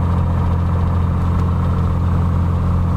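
An engine runs steadily at reduced RPM during an ignition drop check, a loud, continuous low drone with a deep throb and no noticeable change in pitch.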